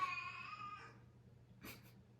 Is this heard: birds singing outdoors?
no